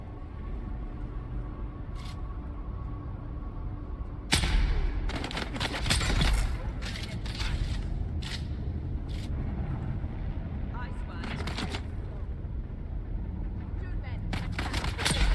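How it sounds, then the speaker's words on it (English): Rifle fire in the game Dune: Awakening: a burst of several sharp shots after a quiet stretch, then scattered single reports under ongoing talk, fairly loud and close. "Jesus, the recoil is nuts on this rifle."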